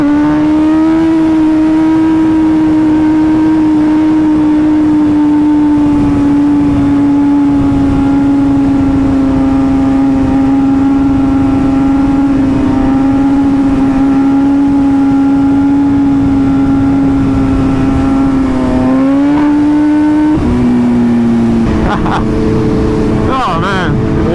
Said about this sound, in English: This bike's so rowdy in first gear.